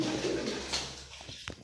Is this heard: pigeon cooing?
yes